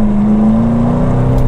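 McLaren 707hp grand tourer accelerating, a steady droning engine note heard from inside the cabin, loud and continuous with a slowly rising pitch.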